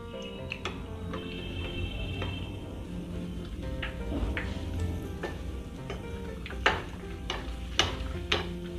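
Vada pav frying in a pan, with a continuous soft sizzle under scattered sharp ticks and scrapes of a spatula, growing more frequent toward the end, no speech.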